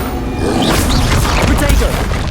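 A Bombarda blasting spell in Hogwarts Legacy erupts as a loud, dense explosive boom with crashing debris that fills the moment, while a voice speaks over it.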